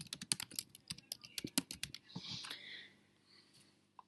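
Rapid keystrokes on a computer keyboard as a name is typed, a quick uneven run of close clicks for about two seconds followed by a softer rustling sound.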